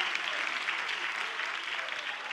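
A church congregation breaks into steady, dense applause for the Lord, a continuous wash of clapping that stays even and fairly close throughout.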